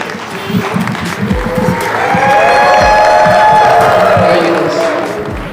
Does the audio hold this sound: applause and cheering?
yes